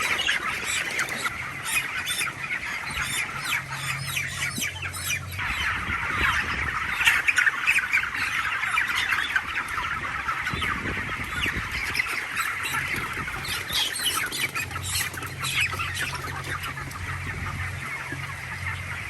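Broiler chickens on a large Malaysian poultry farm squawk and cluck continuously while being weighed ten at a time, loud and close, with agitated bursts of flapping and shuffling throughout.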